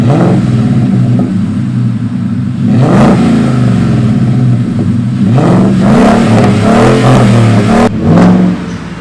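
Ford F150 engine with a Borla Atak exhaust and SPD catted Y-pipe, loud and close, revving repeatedly in several rising and falling bursts over a deep throaty idle.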